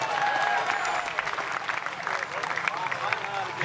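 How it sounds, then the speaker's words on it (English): Audience at a bluegrass festival concert breaking into applause, a dense wash of clapping that holds steady and then thins into scattered claps, with a voice talking over it. "We give her a round of applause for getting me a Kleenex."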